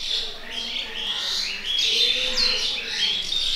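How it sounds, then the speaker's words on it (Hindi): Small birds chirping and tweeting outdoors on a cold rainy day at home, bright overlapping calls at moderate distance against a steady wash of rain. "सुन रहे हो चिड़ियों की आवाज़?"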